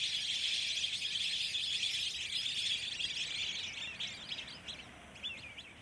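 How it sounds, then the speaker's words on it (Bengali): Flock of birds at a water-lily lake, a dense chorus of high chirps and calls at moderate distance, steady throughout and thinning slightly toward the end. "অনেক পাখি এখানে উড়ে বেড়ায়। অনেক পাখিরা আসে।"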